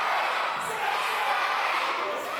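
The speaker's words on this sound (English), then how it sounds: "the crowd going nuts for Ravie Davie" A wrestling crowd roars for Ravie Davie, a dense, steady wall of cheering that holds without a break from start to finish.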